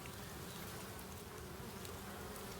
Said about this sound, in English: That hum, of course, is our bees.